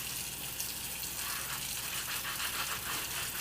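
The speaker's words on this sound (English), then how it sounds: "you can hear this bad boy scrubbing." Scrub Daddy sponge scrubbing a soapy plate at a sink, a steady close rasping scrub with repeated strokes over a wet, gushing background.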